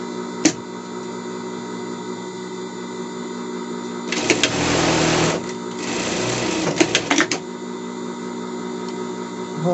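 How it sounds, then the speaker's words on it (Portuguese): An overlock sewing machine stitches fabric for a dress, its motor idling with a steady hum before breaking into two close, loud bursts of rapid mechanical stitching, then settling back with a few clicks. "passar um overlock aqui já volto"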